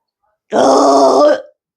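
A single loud, drawn-out burp of about one second, forced up while someone presses on the abdomen, close and alone against silence.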